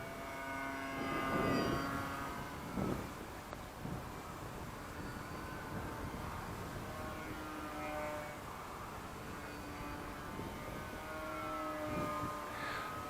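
A HobbyKing Athena carbon fiber and balsa RC warmliner plane in flight, its electric motor giving a steady tonal whine that swells and fades faintly over several seconds as it passes at a distance.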